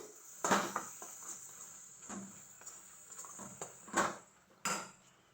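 Cashew powder is mixed into paneer bhurji in a pan on a low flame, with a few distinct scraping knocks and clatters of a spoon on the pan spaced over a quiet, soft background.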